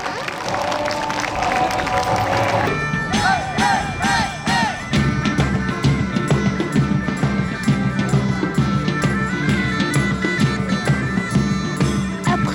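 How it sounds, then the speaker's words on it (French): A crowd at a medieval fair cheers and claps steadily for the knight Lancelot du Lac, mixed with brief whistles or shouts. Dense, lively noise carries throughout. "Acclamation pour le chevalier Lancelot du Lac."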